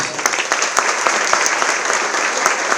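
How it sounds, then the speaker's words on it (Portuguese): An audience at a couples' talk claps steadily and densely throughout, a full, continuous burst of applause with no voices standing out. "Vamos aplaudir essas duas mulheres."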